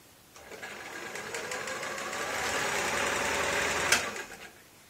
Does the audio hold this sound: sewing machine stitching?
yes